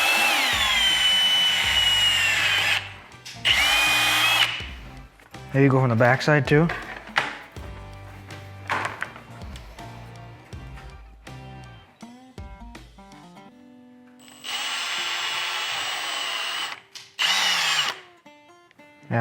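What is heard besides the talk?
power drill drilling holes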